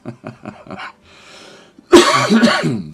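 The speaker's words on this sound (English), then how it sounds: "Sorry about my coughing." A series of short throat-clearing coughs, then a pause with faint breathing, followed by a loud, harsh fit of coughing close to the microphone.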